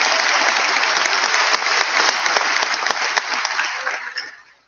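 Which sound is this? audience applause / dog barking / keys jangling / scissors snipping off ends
audience applause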